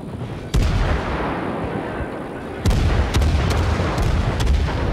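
Naval guns fire in World of Warships, a battleship battle involving Wyoming and a Kirov: two heavy booming salvos land a couple of seconds apart over a constant roaring sea and engine backdrop, followed by sharper distant cracks.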